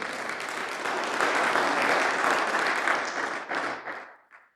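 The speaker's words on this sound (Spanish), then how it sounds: "Fuerte las palmas para nuestro Señor." Sustained audience applause at a Catholic religious talk, a dense wash of many hands clapping that holds steady and loud, then thins out and fades into a few scattered claps at the end.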